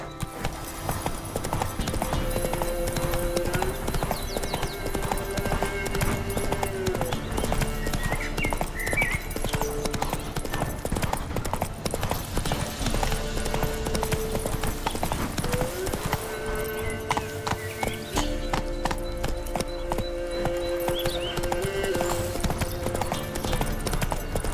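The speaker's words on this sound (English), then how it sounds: "Not so fast, Roach. Giddy up." Roach, the horse in the video game The Witcher 3: Wild Hunt, gallops with a steady, rhythmic clip-clop of hooves over a continuous game soundscape, moderately loud throughout, with an occasional faint whinny.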